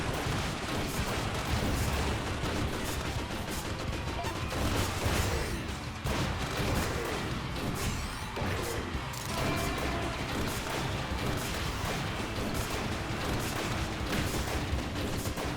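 Rapid bullet and missile fire in the video game Freedom Planet 2, dense continuous bursts of shots and blasts layered over game music, loud and busy throughout without pause.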